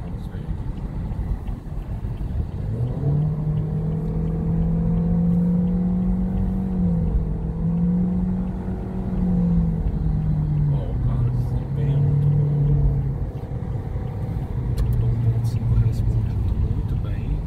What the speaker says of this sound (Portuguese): Depois do sinal aqui eu vou dar uma pisada mais forte aqui para ver como é que é o comportamento do carro